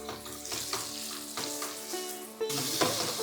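Ginger hits hot tempering oil with coriander stalks for a bottle gourd curry, a bright, close sizzle with crackling pops and a few sharp stirring ticks, flaring louder near the end.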